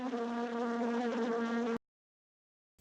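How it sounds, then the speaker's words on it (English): A dense swarm of flies buzzes loudly and steadily as a sound effect for close to two seconds, then cuts off abruptly into silence. "the buzzing was louder than ever, and flies erupted from this thing's mouth"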